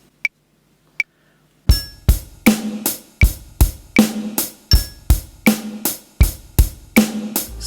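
Two light clicks count in, then a steady drum kit groove kicks in with bass drum, snare and hi-hat at a moderate 80 beats per minute.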